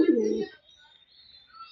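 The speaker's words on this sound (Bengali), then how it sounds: "আর এইগুলা হচ্ছে থরের কবুতর।" A pigeon in a loft gives a single low, loud cooing call up close for about half a second, then only faint high background sounds follow.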